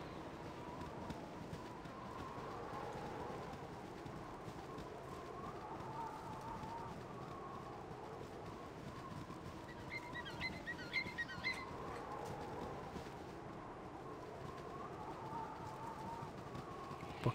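A bird coos and flutters in the Baldur's Gate: Enhanced Edition game world, soft and fairly distant over a low steady ambient bed, with brief higher chirps midway.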